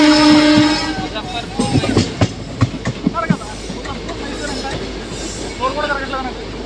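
The Coromandel Express from Chennai Central to Shalimar rolls past close by, loud and continuous, with rhythmic clickety-clack of wheels over rail joints and a faint squeal of wheels on steel.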